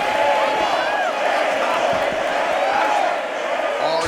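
An arena crowd cheers and roars continuously in the UFC 6 video game before a heavyweight championship fight, with scattered whoops rising over the dense crowd noise.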